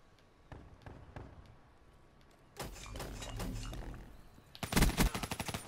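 Gunfire in the video game Call of Duty Black Ops 3, starting with scattered single shots, then a denser stretch of firing and finally a sharp, loud burst of rapid automatic fire near the end.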